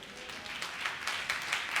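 A church congregation clapping together at a worship service, a steady soft patter of many hands that swells in faint bursts, fairly distant and quiet throughout.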